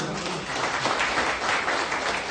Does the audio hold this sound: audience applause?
yes